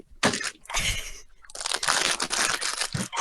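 Someone crunches on a snack close to the microphone, giving loud, crackly bites and rustling chews in two bursts separated by a brief pause.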